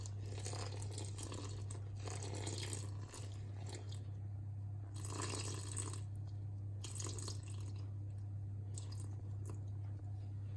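Water poured into flour for a German sourdough bread dough, a steady close trickle and splash into a bowl with soft squishing, continuous for about ten seconds over a constant low electrical hum.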